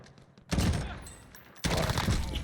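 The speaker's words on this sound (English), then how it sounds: "I downed 2 people at once. I don't know how, but I did it with an AR." M4A1 assault rifle firing in Call of Duty Warzone: two loud, close bursts of rapid automatic fire, the second starting after a brief pause.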